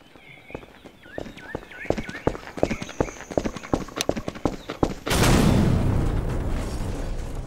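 Rhythmic clip-clop of horse hooves trotting on a hard surface in a video game, ending in a sudden loud whooshing rumble that continues to the end.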